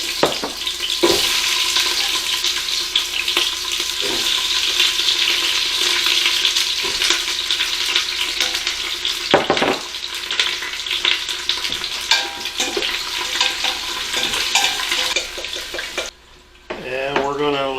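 Vegetables sizzle and fry steadily in hot oil for a fish head soup, a loud continuous crackle with occasional stirring clatters, close by, ending with a brief pause and a splash of water.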